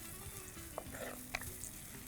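Onions frying in oil in a pan for upma, a soft steady sizzle with a couple of faint scraping stirs, close and quiet with no voices.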